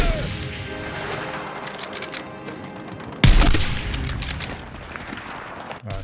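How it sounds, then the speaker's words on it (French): Gunfire in the video game Battlefield 6: sustained rattling shots across the whole stretch, with a sharp loud burst or explosion midway that trails into more firing, all under continuous battle noise. "On essuie des tirs."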